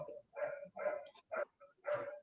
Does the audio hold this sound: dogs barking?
yes